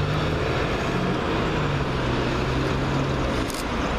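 A Trent Barton Skylink Scania hybrid bus in Derby passes close by, a loud, steady engine drone and broadband road roar filling the moment with no talk.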